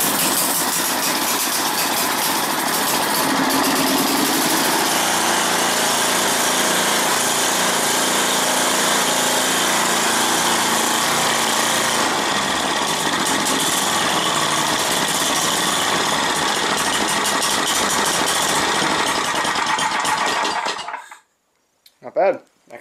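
A snowblower's small gasoline engine, just primed and choked, cranks and catches, then runs at a loud, steady idle for about twenty seconds before cutting off abruptly, all close by and without talk.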